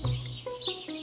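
Chicken or rooster-like clucking and chirping calls used as a storybook morning sound effect, a few short bright calls in a quick burst, close and clear with no talking.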